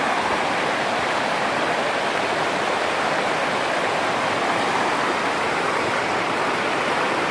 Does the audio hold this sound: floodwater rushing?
yes